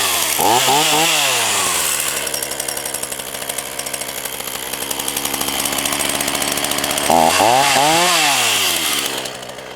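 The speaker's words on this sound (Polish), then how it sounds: "Pilarka ta jest lekka, więc można jedną ręką trzymać." A lightweight PN3800-30 circular saw runs loudly and steadily, its motor pitch dipping and rising twice as it bites into material.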